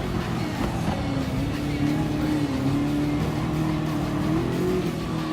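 A Ford GT LM Spec II race car in Gran Turismo Sport holds a loud, steady engine drone close by, its pitch wavering and rising slightly as it accelerates, with no talk.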